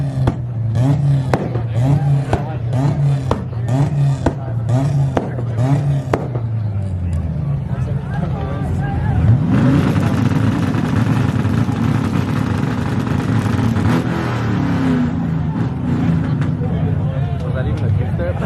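At a rev battle, a car engine fires rapid, rhythmic two-step launch-control pops and revs, followed by a broader rising roar as it pulls away, with excited voices talking over it throughout.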